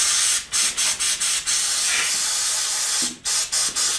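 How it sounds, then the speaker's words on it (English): Compressed air blasts through a fuel line on an LS-swapped S-10 burnout truck, a loud continuous hiss broken into short repeated bursts with brief pauses between. "Go ahead and spray air in the side."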